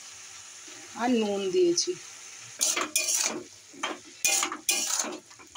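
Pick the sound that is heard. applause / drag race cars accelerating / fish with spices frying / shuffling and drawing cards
fish with spices frying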